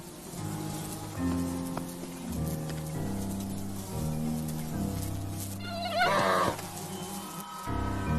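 Insects buzz around polar bears resting on a summer shore, a dense whining hum of flies and mosquitoes held steady and close throughout, with a brief louder burst midway.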